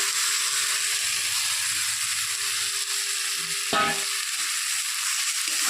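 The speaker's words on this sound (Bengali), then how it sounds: "মশলা ভাজা কমপ্লিট তো এখন আমি ভেজে রাখা ফুলকপি আলুগুলো দিয়ে দেবো" Fried cauliflower and potatoes go into a pan of sizzling spices, giving a continuous close frying hiss with a brief clatter midway as the pieces are tipped in or stirred.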